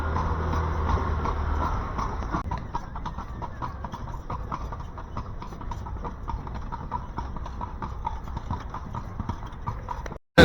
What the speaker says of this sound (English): after a nice long horse ride in the middle of the day